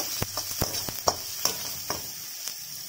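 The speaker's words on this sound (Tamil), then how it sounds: "இப்போ வெங்காயம் நல்லா ப்ரௌன் கலரில் வர வரைக்கும் நல்லா வதக்கிடுவோம்." Onions frying in oil with cumin and fennel in a pan, stirred until brown: a steady close sizzle with sharp clicks of a spoon scraping the pan.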